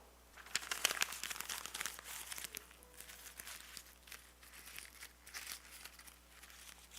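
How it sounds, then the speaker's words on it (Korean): A sheet of paper is crumpled by hand during a church sermon, giving several seconds of crisp, crackling crinkles that swell and fade in bursts, close and clear with no talking. "종이가 다 구겨져 버려 나왔어요."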